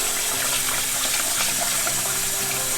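Running tap water pours steadily into a bowl as rice is rinsed before going into the rice cooker, a constant close splashing gush with no talking.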